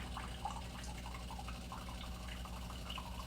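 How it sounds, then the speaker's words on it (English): A Delonghi Dinamica espresso machine dispenses hot water into a clear cup, a faint, steady trickle with soft scattered drips over a low mechanical hum. "I'm using the clear cup so you can see how much water does come out"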